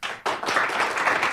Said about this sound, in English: So if you guys give a round of applause for Dr. Thomas.